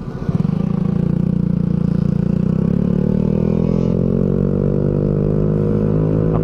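A big motorcycle engine revs loudly and steadily, its droning note climbing gradually in pitch across the whole stretch with no voices over it.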